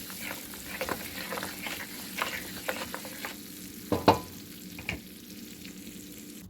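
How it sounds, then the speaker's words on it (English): Tomatoes and spices for butter paneer sizzle in a home-kitchen pan as a utensil stirs them. The frying hiss runs steadily underneath, and several louder scraping strokes come at irregular intervals, with no talking. "Time to add some tomatoes and let them cook for a minute or so. Nicely mix all the ingredients so they blend together properly with the spices."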